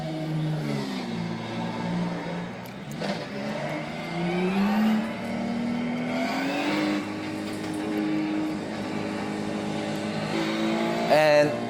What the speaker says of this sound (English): give the throttle and the car will engage.